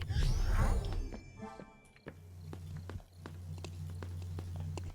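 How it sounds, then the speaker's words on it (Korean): Footsteps of a character in a video game, a series of soft, regular steps heard fairly close after a brief burst of other game noise, with a low steady hum running underneath. "발소리 들려요?"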